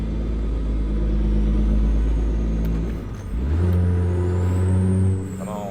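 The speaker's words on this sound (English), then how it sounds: "We got some trucks that are struggling to get up the mountain here." Heavy trucks labor up a mountain grade on a Washington highway, deep engine rumble and droning gear tones close by, dipping briefly before a truck pulls harder with a rising, sustained growl.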